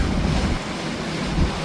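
Strong wind roars across a sailboat out on the open coast as choppy water slaps and churns against the hull, a steady loud wash with no voices.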